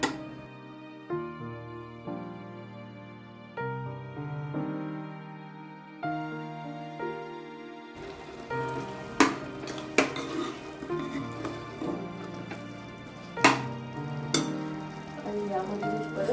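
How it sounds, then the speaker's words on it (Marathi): Basmati rice frying in ghee in a pan for chicken yakhni pulao, a steady sizzle with occasional utensil knocks and scrapes that enters partway through, playing under loud background music. "आणि मस्त परतून घ्यायचा आहे बासमती तांदूळ हा तुपामध्ये."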